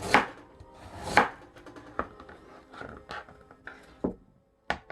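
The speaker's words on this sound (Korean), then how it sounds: "당근은 아주 얄팍하게 채를 썰어서" Carrots being thinly julienned with a kitchen knife on a cutting board, close, crisp chopping knocks in an uneven rhythm, a couple of heavier strokes at first and then lighter, quicker cuts.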